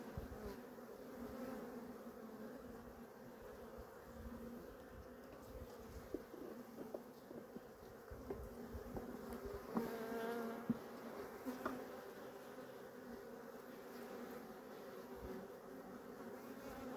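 Honeybees buzz around an opened hive during a beekeeping inspection of a weak, varroa-damaged colony, a continuous soft hum of many bees close by with occasional handling knocks and rustles.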